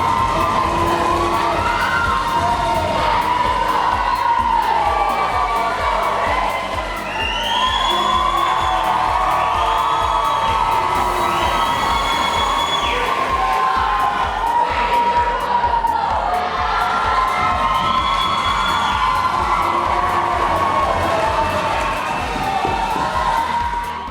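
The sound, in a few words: home crowd cheering at a high school sports meet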